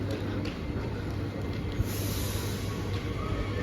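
A German railway terminus at night: a low, steady rumble of a train with faint metallic squeals on top, fairly close and continuous, with no one speaking.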